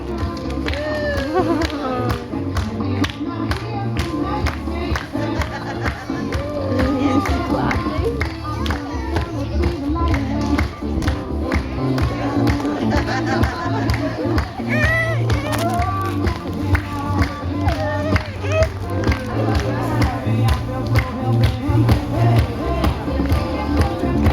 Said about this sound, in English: we need everyone out there to help us out and clap along to the beat